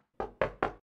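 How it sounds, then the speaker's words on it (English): Three evenly spaced, solid knocks on a door in the video game Neighbour Next Door, loud and close, with silence before and after. "Knock on the door."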